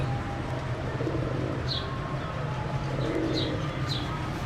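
Pigeons coo softly and repeatedly over a steady background rumble, with a few faint higher chirps scattered through.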